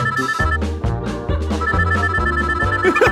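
A mobile phone rings with a repeating electronic ringtone, loud and rhythmic, pulsing steadily throughout over a musical backing.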